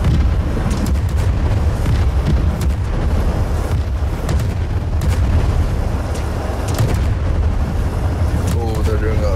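Cannon fire in the airship battle game Worlds Adrift, a dense run of booming blasts and crackling impacts under constant rumbling engine noise, with players talking over the din.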